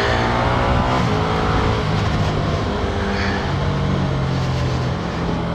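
A Ducati Streetfighter V2 motorcycle engine drones continuously while riding, a steady loud rumble with rising and falling rev tones and strong low harmonics, heard alone without talk.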